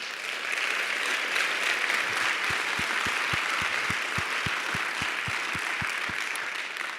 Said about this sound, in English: I'd like to ask you to give a big round of applause to Todd